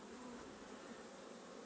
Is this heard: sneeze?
no